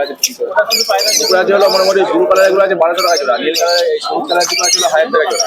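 Many caged pigeons and other birds chirp and squawk together in a dense, busy chorus at the Santipur bird market, with people talking over it, loud and close.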